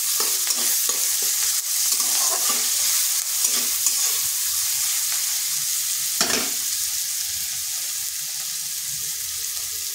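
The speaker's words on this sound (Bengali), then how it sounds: "পেঁয়াজটা একটু ভেজে নিচ্ছি।" Chopped onion frying in a pan, a steady bright sizzle under repeated stirring scrapes and soft knocks of a spoon, close and fairly loud.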